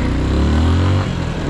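A motorcycle engine runs steadily at idle, close and loud. Its low throbbing hum stays continuous with no speech over it.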